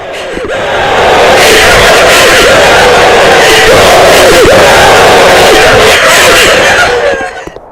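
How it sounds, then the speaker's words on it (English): A crowd of characters in an indie video game mobs the player, producing a loud, dense wall of overlapping screams, yells and battle cries that swells in and holds for several seconds before fading. "I'm going to go in that little crowd for a second just so you guys could hear the commotion that kind of goes in there."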